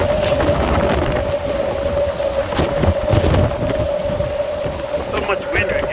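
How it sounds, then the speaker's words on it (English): Heavy wind buffets a high-rise building at level 25–26 of 205 North Quay, a steady loud roar with gusty rushing and whistling throughout, broken by occasional knocks. "So much wind we're getting up here."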